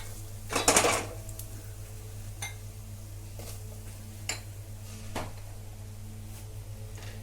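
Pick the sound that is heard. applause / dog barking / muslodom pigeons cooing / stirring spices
stirring spices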